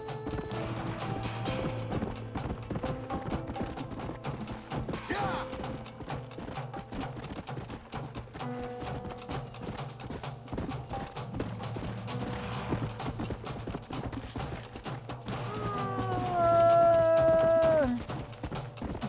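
Horse hooves clip-clopping in the video game Red Dead Redemption, a steady rhythmic run of hoofbeats under game music and ambience, with a brief loud sweeping tone near the end.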